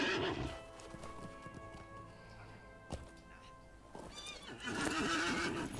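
In the online game Lord of the Rings Online, a horse's hooves clip-clop at a gallop and the horse whinnies loudly, with a burst of neighing near the end over the game's background sound.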